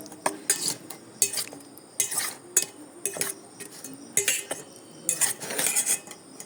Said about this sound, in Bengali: এখন আমি কাঁটা চামচের সাহায্যে আমি এটা ভালোভাবে মিক্সড করে নেব।